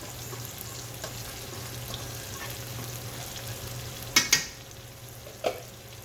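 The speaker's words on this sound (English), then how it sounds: "You gotta keep stirring it so it doesn't stick" A pot of lumache pasta for Jamaican jerk shrimp is stirred with soft, steady scraping under a faint background hum, with a few sharper clinks of the spoon against the pot near the end.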